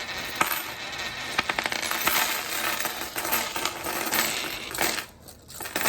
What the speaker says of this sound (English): So now let's dump out some more coins and let's see what we get.